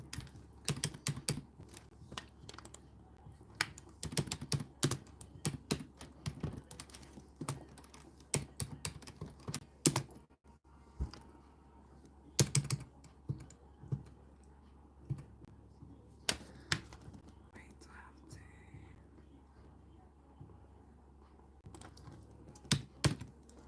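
Someone types on a computer keyboard, producing close, irregular bursts of sharp key clicks with short pauses between runs and a faint low hum underneath.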